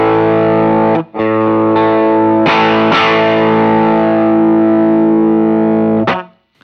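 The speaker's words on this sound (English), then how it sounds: "when I'm kicking on a drive from my clean tone, it's usually this sound right here" An electric guitar played through a drive pedal gives a stage one overdrive tone, sustained chords ringing loud and alone with a couple of brief cut-offs before fading.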